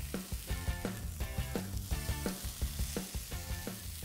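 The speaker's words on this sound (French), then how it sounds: "J'utilise une spatule ou des pinces pour placer le steak dans la poêle" Steak searing in a hot frying pan, a continuous sizzle broken by repeated clinks and scrapes of a spatula or tongs against the pan, close and moderately loud, no voices.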